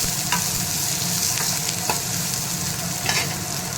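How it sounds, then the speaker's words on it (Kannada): Onion and curry leaves frying in hot oil for a moringa leaf palya, a steady bright sizzle with intermittent scraping clicks of a utensil stirring the pan, close and continuous without voices. "ಈರುಳ್ಳಿ, ಕರಿಬೇವು ಹಾಕಿ ಚೆನ್ನಾಗಿ ಕೈ ಆಡಿಸ್ಕೊಂಡ್ಬಿಡೋಣ"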